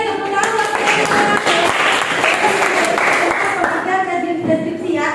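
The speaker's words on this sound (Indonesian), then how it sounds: "Oke, tepuk tangan buat Kaila." Classroom applause for a student named Kaila during a lesson, a dense burst of clapping from the class running throughout with voices and chatter mixed in.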